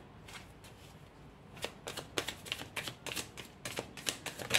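A tarot deck is shuffled and cards are drawn during a reading, producing soft, close riffling and flicking bursts that start sparse and grow denser and more rhythmic toward the end.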